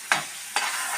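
An onion and tomato mixture fries in a pan with a constant sizzle, marked by two quick stirring scrapes close up.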